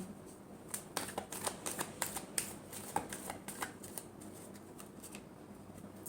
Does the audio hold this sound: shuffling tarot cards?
yes